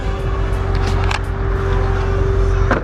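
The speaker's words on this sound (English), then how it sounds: "First time driving a Vette." A Chevrolet Corvette being driven at a weekend car meet in Utah, heard from inside the cabin as a steady low engine and road rumble with a constant drone and a brief click near the end.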